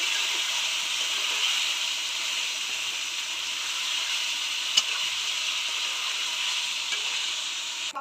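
Duck egg curry is sautéed in a pan with a splash of water, giving a continuous close sizzle and bubbling hiss, with one brief clink partway through.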